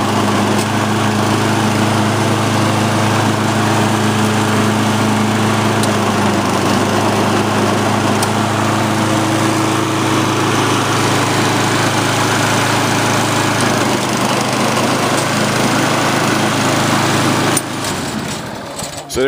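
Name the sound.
Lawn-Boy AWD mower engine running, all wheels turning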